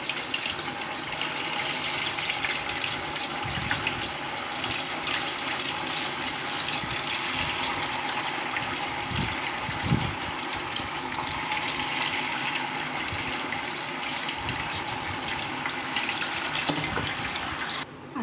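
Vadas made for fasting fry in very hot oil, a steady close sizzle and bubbling hiss that runs unbroken for the whole stretch, with a few soft clinks of utensils and no talk.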